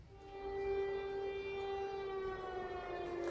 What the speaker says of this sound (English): I noticed you have the sirens behind you there